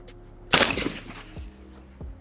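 A single suppressed shot from a Stenzel SAK-21 rifle fitted with a low back pressure suppressor: a sharp, close report with a brief decaying tail, followed by faint metallic tinkles.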